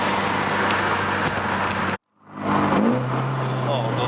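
A Nissan S15 Silvia cruising at 3,000–4,000 RPM, a loud interior engine hum that cuts out abruptly, then returns with a rising rev and settles into a steady drone.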